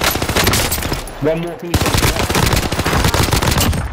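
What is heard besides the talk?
gunfire in the video game Warzone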